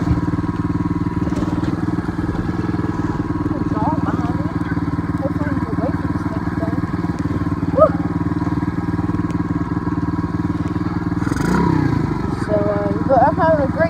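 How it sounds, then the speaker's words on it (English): A dirt bike engine runs steadily close by, a continuous buzzing drone with small throttle changes and clatter, while someone talks over it at times. "Try to kickstart this thing yet. Let's see if we can get it first try."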